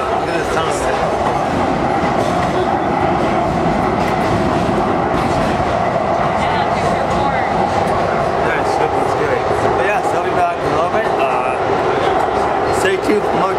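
Train carriage rolling through a tunnel, with a steady dense rumble and rattle continuing throughout and occasional clicks over the rails, recorded from on board at close range with a voice heard now and then.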